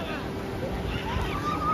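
Sea waves wash onto the beach at Ganpatipule on the Konkan coast, a steady broadband roar mixed with wind buffeting the microphone and faint distant voices.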